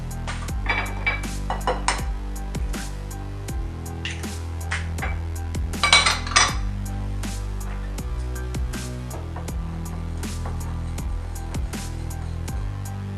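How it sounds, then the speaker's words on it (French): Two eggs are whisked into cookie batter in a bowl, producing quick, close clinks and scrapes of the whisk against the bowl over a steady musical background. "on mélange au fouet pour faire une jolie pâte"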